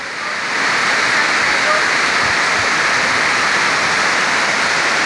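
Heavy rain pours down in a storm over a water village, a dense, loud, unbroken hiss of falling water that swells quickly at the start and then holds steady.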